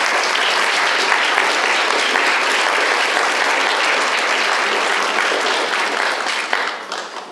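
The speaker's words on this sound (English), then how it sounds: "Let's have some applause for the authors." A large audience at a family stories festival applauds the authors in a loud, dense, continuous round of clapping that keeps going for several seconds before tapering away near the end.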